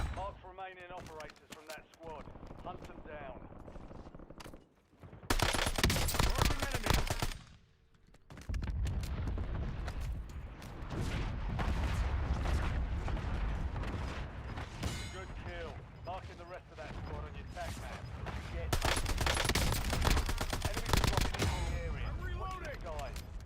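Rapid video game gunfire in a battle royale match, bursts of automatic shots starting and stopping in dense loud stretches, with a player talking between and over the firing.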